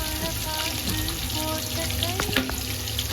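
Onions and whole spices fry in oil for mutton biryani, about 300 g of onion for three-quarters of a kilo each of rice and mutton, giving a steady, close sizzle with light stirring throughout.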